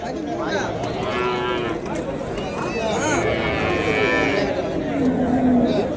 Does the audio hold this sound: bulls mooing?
yes